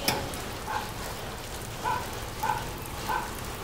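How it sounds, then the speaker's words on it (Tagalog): Steady rain falling outside during a flood, a dense close hiss of drops on surfaces and water, with a few faint short tones rising above it now and then. "Baha na sa amin."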